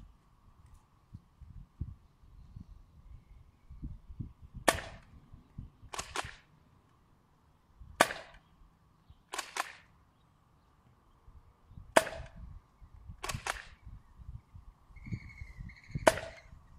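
Kronos foam dart blaster fitted with a 14 kg Apollo spring firing single sharp cracks, seven shots spaced a second or two apart, close and loud over faint background rustling.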